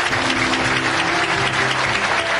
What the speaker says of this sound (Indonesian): Selebihnya kita tepuk tangan dengan penuh rasa syukur atas kehadiran tamu-tamu kita.